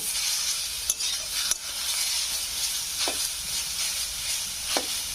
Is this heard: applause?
no